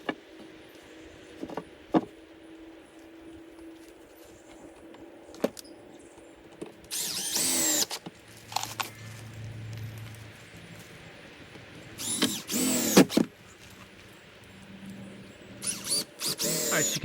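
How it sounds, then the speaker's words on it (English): A piece of 2x4 ripped to fill a gap on a 200-gallon fuel storage build: several short, loud bursts of sawing noise over faint background clatter, separated by quieter stretches with scattered knocks. "We ripped a piece of 2x4 to fill in the gap there."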